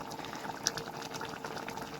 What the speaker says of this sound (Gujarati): હવે આની અંદર આપણે થોડું એટલું પાણી એડ કરી દેવાનું છે